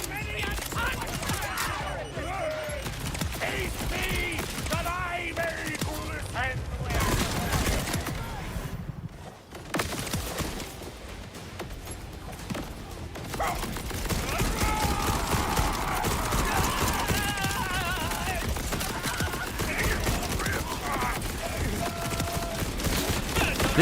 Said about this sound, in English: They're just dying because of the rockets from the fireworks shield.